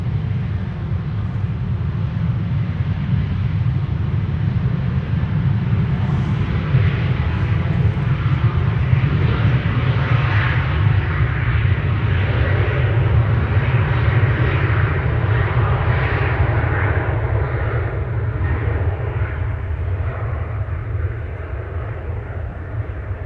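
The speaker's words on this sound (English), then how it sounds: "That's an A330 which is destined to take off from this runway." Turkish Airlines Airbus A330 jet on a runway at Amsterdam Schiphol airport, a steady loud engine roar with deep rumble and broad hiss held throughout, easing slightly toward the end, no voices.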